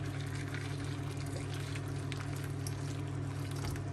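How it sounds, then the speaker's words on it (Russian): Boiling water is poured over jar lids, making a continuous splashing, gurgling stream at close range for several seconds with no voices. "крышки, которые нужно будет залить кипятком. Заливаем кипятком и оставляем на несколько минут."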